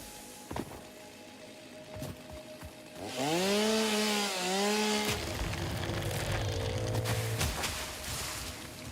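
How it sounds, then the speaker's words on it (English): A chainsaw cuts down trees in a video game, a rising whine that revs up, holds with wobbling pitch for about two seconds, then drops away amid scattered thuds. "I've updated the chainsaw so that when it cuts down trees, it makes you terrified, apparently."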